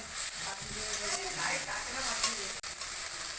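Garlic paste and spices frying in hot oil while being stirred, a close, loud, continuous sizzle with scraping stir movements, briefly dipping near the end.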